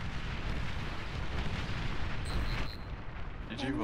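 A commander unit blows up in the real-time strategy game Beyond All Reason, a sustained rumbling explosion and artillery-like roar filling the mix, with a few high tonal blips and a brief voice-like sound near the end.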